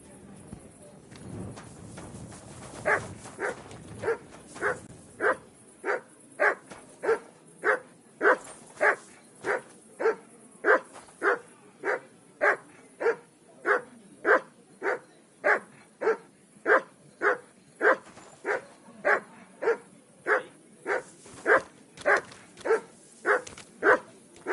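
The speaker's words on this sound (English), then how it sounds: "Sit and bark." A dog in Kingdom Come: Deliverance barks on command, a long steady run of about thirty evenly spaced, loud, close barks repeating roughly once per second with no talk over them.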